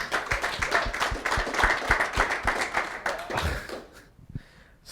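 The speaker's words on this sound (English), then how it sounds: "Big round of applause, Jake." A live audience gives a round of applause for Jake at a career event on becoming a successful SDR, a dense burst of clapping that thins out and fades toward the end.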